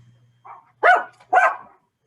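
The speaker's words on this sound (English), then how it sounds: "2 barks means yes, I believe." A dog gives a soft lead-in yip followed by two loud, close barks about half a second apart, over a low steady hum.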